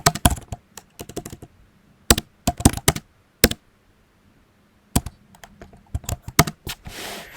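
Computer keyboard being typed on in irregular bursts of crisp, close keystrokes, with short pauses between clusters and no speech.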